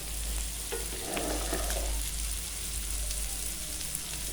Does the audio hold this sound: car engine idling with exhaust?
no